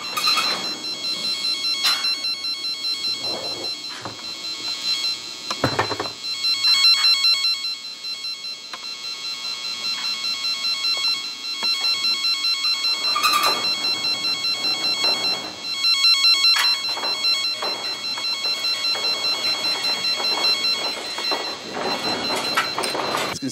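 A cable locator drones a steady high-pitched electronic tone while tracing a galvanized pipe, with occasional clicks and rustles breaking through, close and fairly loud throughout.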